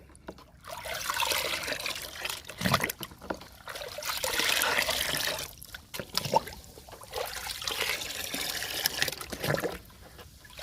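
Aloe vera paste is stirred into water in a bucket, giving close, irregular sloshing and trickling swirls with brief pauses between them.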